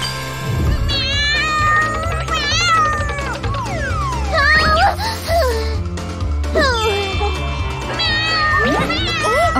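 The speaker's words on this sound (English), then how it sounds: "But Kitty's scared of needles." A cartoon cat scared of a needle meows in a run of loud, rising and falling cries over a bouncy music bed, with a voice and tinkling effects mixed in.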